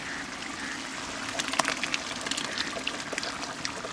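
Lemon juice and ground coconut-onion paste pour steadily into a country chicken gravy pot with a soft continuous splash and a few small drips and clinks, close and fairly quiet.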